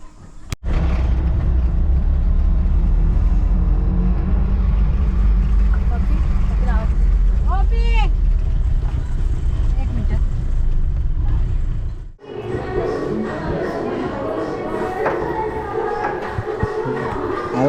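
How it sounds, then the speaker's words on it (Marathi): A ride in an auto rickshaw through the Konkan countryside near Dapoli, with a steady, loud engine drone and road rumble throughout, then a sudden shift to a busier, rattling cabin texture near the end, with voices talking. "रिक्षा आली आपली निघालो आपण"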